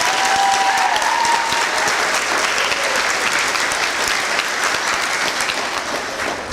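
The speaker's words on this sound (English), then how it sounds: "Round of applause for those two ladies." An audience at an elementary school fifth-grade promotion ceremony bursts into loud, dense applause that holds steady for the whole span, close and full, with a faint voice briefly audible early on.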